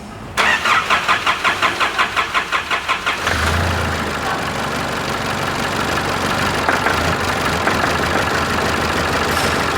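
A 4WD engine is started after repair: the starter cranks in a rapid rhythmic chug for about three seconds, then the motor catches and settles into a steady, loud, slightly rough idle, close and with no talking.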